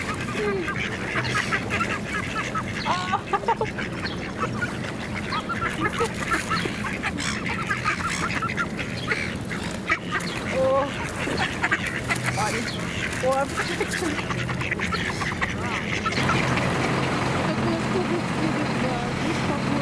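Ducks and geese quack and honk around people feeding them seeds in Queenstown, New Zealand, a busy chorus of calls over steady crowd chatter and outdoor bustle throughout.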